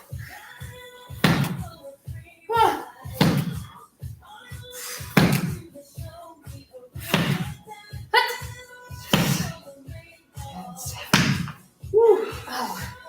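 Repeated heavy slam ball impacts during a workout, a series of loud, evenly spaced thuds against the floor, each followed by a short rebound, with a person's breathing and voice between them.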